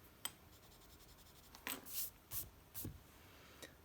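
Pencil scratches on paper, dropping a straight line down the edge of the sheet while sketching a cube; a few soft strokes and short rubs spread across a quiet room.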